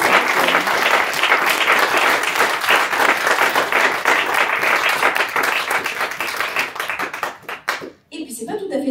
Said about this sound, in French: je pense qu'on peut applaudir encore Marion pour